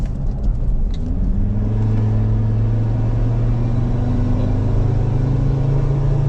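A Ford Everest SUV engine with an aftermarket exhaust revs up with a deep, rumbling exhaust note, its pitch climbing steadily as it accelerates, loud and close throughout.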